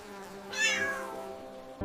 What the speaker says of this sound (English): 1, 2, 3 cute kittens